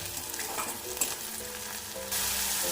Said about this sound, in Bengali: পেঁয়াজটা আমার লালচে কালার করে ভাজা হয়ে গেছে